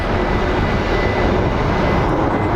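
A United Embraer jet arrives at Phoenix Sky Harbor, its broad, steady engine roar filling the air at a constant loudness with no voices.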